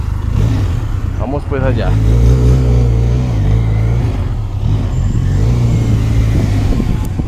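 A Benelli TRK 502 motorcycle engine hums steadily up close while someone talks over it, with a brief rising rev early on before the engine settles back into a steady drone.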